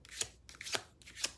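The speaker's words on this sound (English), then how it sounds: "So, one more shuffle." Tarot cards are shuffled in three quick, soft riffling bursts about half a second apart, close and quiet, with no talking.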